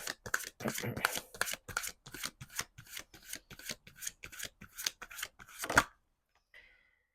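Tarot cards being shuffled and drawn, a rapid run of crisp riffling flutters repeating for nearly six seconds up close, then a brief soft slide of a card before quiet.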